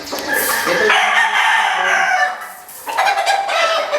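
A broad bull gamefowl stag crows loudly and close, one long drawn-out cock-a-doodle-doo followed by a second crow starting near the end, with some clucking around it.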